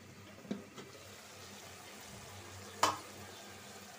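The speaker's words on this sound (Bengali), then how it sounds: "সব মিলাই আমি একসাথে কষায় নেব। তরকারিটা কষানো হোক।" Tengra fish curry with brinjal, tomato and potato sautés in a pan with a soft, low sizzle, broken by a few faint clicks and a sharper clatter near the end.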